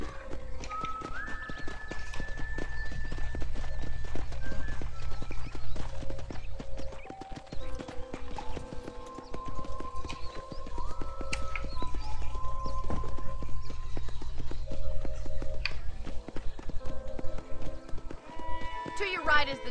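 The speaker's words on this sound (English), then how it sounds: "let's see if you can still ride a horse" A ridden horse on a ranch clip-clops along in a steady, close hoofbeat rhythm, while a person talks over it and soft background music plays.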